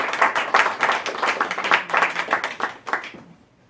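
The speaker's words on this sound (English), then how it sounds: "So a little round of applause for Richard as he makes his way up" A story slam audience at a book festival claps in a brisk, dense burst of applause for the next storyteller, nearby and fairly loud, fading away at the end.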